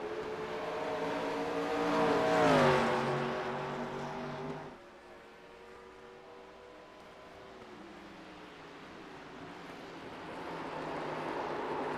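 Race cars at Watkins Glen, with one engine swelling loudly as it passes close and its pitch sweeping down, followed by quieter engines droning farther away and then building again toward the end.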